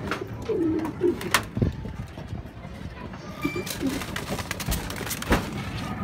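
A racing pigeon gives soft, low coos in short bursts against an outdoor loft background, with a few sharp knocks and clatters in between.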